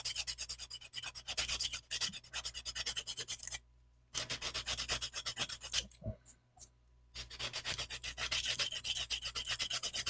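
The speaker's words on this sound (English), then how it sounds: "use the lower grit rating, which is a much rougher sandpaper, because you want it to strip off the features" Coarse low-grit sandpaper scrubs steadily across a Nendoroid face plate in quick back-and-forth strokes, close and dry, with a short pause and a few faint taps before the sanding resumes.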